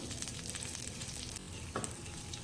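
A farali dosa fries in oil on a pan with a continuous close sizzle and fine crackling, broken by a few sharper pops and a brief scrape.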